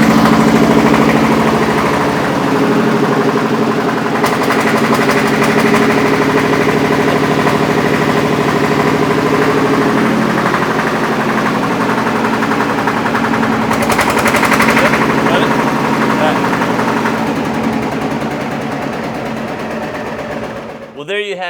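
A Porsche Junior Diesel 108 tractor engine runs steadily after starting on an Iowa farm, a loud continuous rattling diesel clatter that holds for about twenty seconds before cutting off abruptly at the end.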